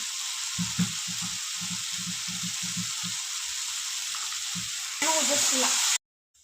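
A vegetable stir-fry sizzles steadily in a pan for North Karnataka home cooking, with a rhythmic series of soft low knocks from mixing, then a louder hissing burst before cutting out.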